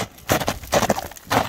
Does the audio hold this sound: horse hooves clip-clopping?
yes